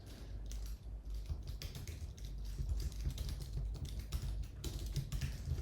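Fast typing on a computer keyboard, a dense run of quiet clicks and taps at close range with no voice.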